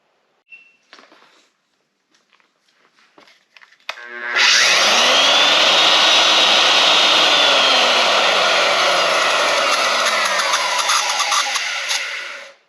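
Old Porter-Cable router with a newly replaced power cord switching on after some light handling noises, a loud steady high whine that runs for about eight seconds before cutting off.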